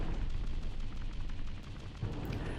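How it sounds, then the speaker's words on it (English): Explosions from the video game Owlboy go off in a constant, rapid barrage of loud booming blasts that overlap into a continuous rumble. "The whole constant loud explosions thing."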